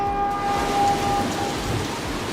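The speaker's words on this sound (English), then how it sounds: "Oh, it's raining this time." Rain pours steadily on surfaces at a dockside container port in a game, a dense, constant patter with faint low rumbles, no voices over it.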